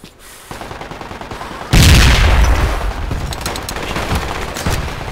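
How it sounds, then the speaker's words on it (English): Gunfire from a firefight in the military game Project Reality cracks and booms in rapid bursts, with one heavy close blast followed by a rolling barrage of shots. "You're getting to have this awesome firefight."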